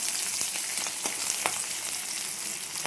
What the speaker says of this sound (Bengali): পেঁয়াজটা ভাজা হয়ে যাক।